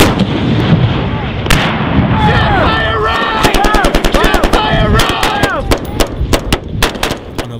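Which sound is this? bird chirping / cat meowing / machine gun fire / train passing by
machine gun fire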